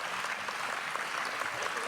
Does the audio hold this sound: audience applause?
yes